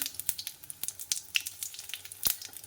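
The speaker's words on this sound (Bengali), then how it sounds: "তেলের উপরে ফোড়ন আর তেজপাতা দিয়ে দিয়েছি" Spices and a bay leaf crackling in hot oil in a wok, faint scattered pops and light sizzle ticks at close range, with no talking.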